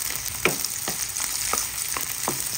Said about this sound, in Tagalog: ginisa ko na po ang ating bawang, sibuyas at ang ating luya.